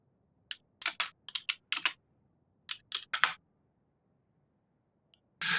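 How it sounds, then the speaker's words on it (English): Loud computer keyboard typing in clustered bursts of sharp clicks, two flurries separated by a pause, close and isolated with no talk over it. "It's just the keyboard that is really loud."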